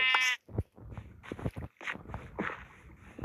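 A single bleat of a sheep in Minecraft opens, followed by soft clicking and shuffling footstep-like sounds at close range.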